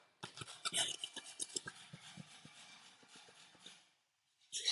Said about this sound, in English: So we're going to grate that whole nutmeg.